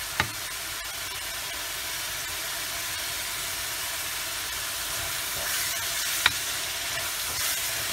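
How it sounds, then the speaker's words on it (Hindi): A zucchini turai bhujia masala sizzles and fries steadily in a pan while chopped fresh coriander is stirred in, with a constant hiss and a couple of sharp spoon taps, no voices. "अब हम आधा धनिया, हरा धनिया कटा हुआ अभी मिलाएंगे,"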